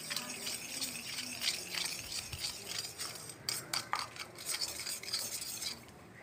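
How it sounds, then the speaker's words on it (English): A spoon stirs a sugar and warm milk mixture in a bowl, with soft scraping swirls building into quicker clinking taps against the sides, close and fairly quiet with no talking. "Dissolve it well."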